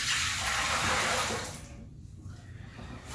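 Blue water is poured back into a container in a loud rushing splash that stops after about a second and a half, leaving faint trickling.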